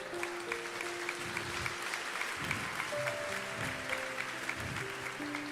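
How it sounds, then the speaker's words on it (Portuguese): A church congregation applauding during a sermon, a steady faint patter of many hands at a distance, with sustained keyboard or organ tones holding underneath. "se é para o Senhor, você pode aplaudir"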